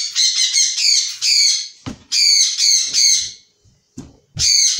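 A bird squawks loudly and close by in repeated harsh, buzzy calls, several rapid bursts separated by short gaps, with faint knocks between them and no talk.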